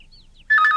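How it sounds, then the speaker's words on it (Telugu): A telephone bursts into a loud, close electronic ring after a brief quiet lead-in, the trilling tone pulsing rapidly with no voices over it. "ఏంటి ఫోన్ రింగ్ అవుతూనే ఉంది?"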